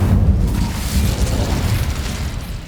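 An Incendio fire spell cast in Hogwarts Legacy bursts as a loud, sustained whoosh with a deep rumbling roar that holds steady for nearly three seconds without pause.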